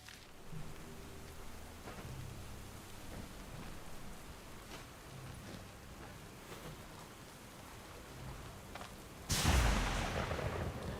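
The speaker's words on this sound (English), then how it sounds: "These lightning bolts are a little loud, though." Thunder from lightning bolts in the Stoneshard video game cracks and rumbles over steady rain, with one loud close crash near the end.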